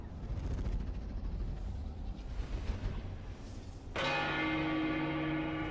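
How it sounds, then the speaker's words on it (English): A church bell in a video game rings out loud and sustained after being shot, its bright ringing tone cutting in sharply and holding steady over steady background game noise. "Shoot the church bell."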